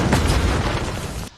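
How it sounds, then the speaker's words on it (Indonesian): Landmine blast in a Korean drama film, a loud, dense booming burst that fills the clip and cuts off abruptly near its end, with no talking. "Jun Seok menginjak ranjau dan meledak"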